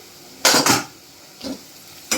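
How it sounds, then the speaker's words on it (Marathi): Onion with turmeric cooks in oil in a pan, heard as a few short, bright scraping and stirring bursts against the pan, close by, with quiet pauses between them. "ते पण छान परतून घ्यायचे तेलामध्ये."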